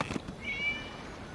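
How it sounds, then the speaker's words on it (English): A single short cat meow in the Genshin Impact video game, a thin, faint, high mew heard alone against quiet background ambience. "It was just a cat."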